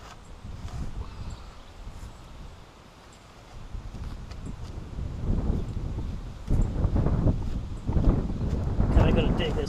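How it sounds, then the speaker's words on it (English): Wind buffets the microphone outdoors during digging for a rain barrel installation, in low, rumbling gusts that grow louder and rougher toward the end, with no clear voices above it. "Sorry guys, it's a little windy today."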